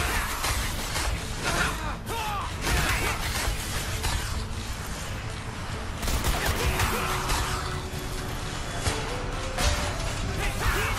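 Heavy gunfire in the video game Strider: rapid, overlapping bursts of shots and crashing impacts in a continuous barrage, loud and busy throughout.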